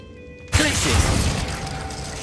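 A Glacius freezing ice spell cast in a wizard video game bursts in abruptly after a near-silent lead-in, a loud crackling, shattering rush that holds steady and slowly fades over a couple of seconds.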